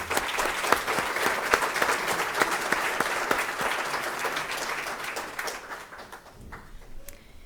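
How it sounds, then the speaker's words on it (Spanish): An audience claps for a performer at a Costa Rican commemorative ceremony, a full, lively round of applause with sharp individual claps standing out, sustained for several seconds before thinning and fading out near the end. "Yo creo que se merece otro aplauso"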